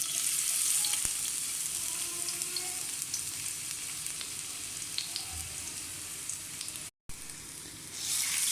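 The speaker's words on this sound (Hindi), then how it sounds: "अदरक को थोड़ा सा फ्राई करूँगी, थोड़ा सा रेड रेड करूँगी अदरक को" Ginger fries in cooking oil in a pan for dal gosht, a constant close sizzle with a few faint clicks, briefly cut off before resuming louder, with no talking.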